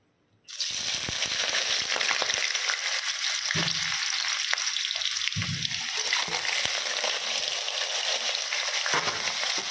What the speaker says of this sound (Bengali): তেল গরম হচ্ছে, আলুটা ছেড়ে দেবো।